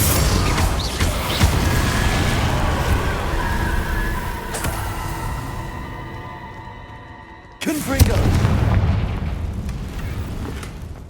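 In the video game Hogwarts Legacy, a Confringo blasting spell sets off an explosion, a sharp boom that hits partway through over a dense layer of game sound and music.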